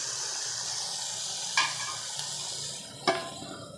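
Capsicum with turmeric and salt being stirred in a pan, a soft steady sizzle running throughout with two brief louder scrapes of the spoon against the pan.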